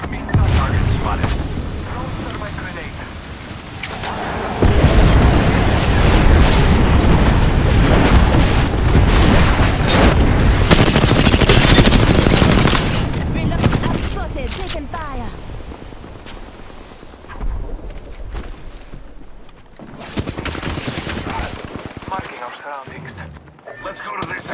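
Gunfire in the video game Apex Legends, bursts of heavy shooting and blasts that come in waves, loud at times, mixed with game noise and spoken voice lines throughout.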